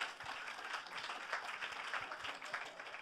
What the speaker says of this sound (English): So you all deserve a round of applause as well for doing that.